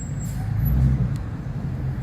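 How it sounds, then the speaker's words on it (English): Steady road traffic in the Atlanta suburbs of Henry County, Georgia, rolls past as a continuous low rumble of cars and heavier vehicles, with a brief hiss partway through and no voices. "A lot of traffic."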